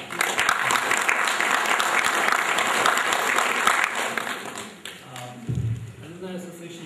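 An audience claps at the 35th-year reunion of the IIT Kanpur Class of 1977, with loud, sustained applause that fades near the end, where a voice and a few thumps come through.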